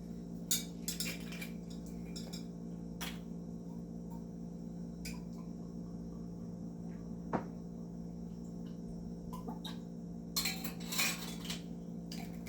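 A metal bar spoon gives a few light clinks and taps against glassware while measuring maraschino and curaçao liqueurs for an improved whiskey cocktail. The sounds are soft and scattered over a quiet background hum.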